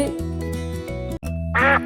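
Cartoonish duck quacks ring out over the bouncy melody of a Tamil children's song about a little duck, clear and upfront near the end of the music.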